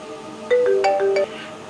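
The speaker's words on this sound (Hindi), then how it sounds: "ये देखिए ललन का फोन आ गया।" A phone ringtone plays a short melodic burst of bright tones, loud and close, lasting under a second amid a comic Bhojpuri household scene.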